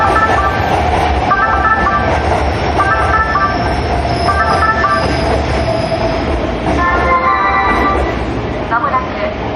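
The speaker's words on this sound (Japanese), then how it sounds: "まもなく電車が通過します。" A Keihan train at Yodoyabashi station gives a loud, close rumble of wheels and carriages, with tonal platform announcements and chimes sounding over it.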